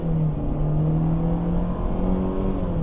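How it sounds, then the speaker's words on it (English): A Mercedes SLK 230K pulls away under acceleration with traction control engaged, its engine giving a loud, steady drone that rises slightly in pitch close to the listener. "See how peppy this little engine is then."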